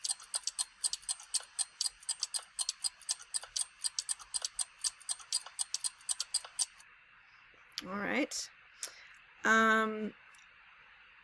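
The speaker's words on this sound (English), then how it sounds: "Many clocks ticking." A sound effect of many clocks ticking, a rapid, irregular cluster of sharp clicks over about seven seconds, then someone speaks briefly as the ticking stops.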